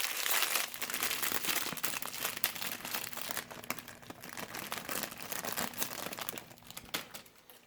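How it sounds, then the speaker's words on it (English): Plastic parts bag from a Noctua NH-D9L CPU cooler box being opened, with close, continuous crinkling and rustling of thin plastic handled at length, fairly quiet and with no voices. "Now it is time to open this common parts bag so we can retrieve the thermal paste."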